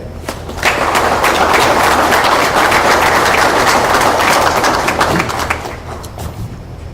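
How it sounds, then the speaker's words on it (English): Hearty applause from an audience at a fire department 9/11 remembrance ceremony greets guest speaker Norm Jones. Thick, steady clapping runs for about five seconds, then tapers into scattered claps near the end. "I'd like to give a round of applause for Norm Jones, our guest speaker today."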